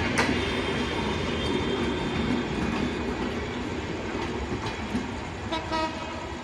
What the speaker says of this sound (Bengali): লাগেজ ভ্যান দেখতে পাচ্ছেন পুরোপুরি চলে গেল